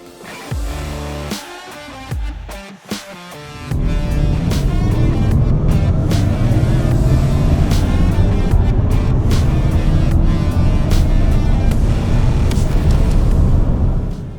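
A BMW iX M60, BMW iX50 and Porsche Panamera Turbo S launch together on a quarter-mile drag run: a brief uneven start, then a loud, steady rushing roar of acceleration that holds to the end.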